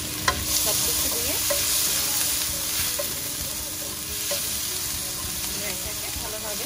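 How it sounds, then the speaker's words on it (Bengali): Onion and garlic frying in oil in a pan for a rui fish curry, a steady close sizzle with scraping stir strokes throughout, no talking. "পেঁয়াজটা লাল না হওয়া পর্যন্ত দেখে কিছু খুব ভালোভাবে ভাজতে হবে।"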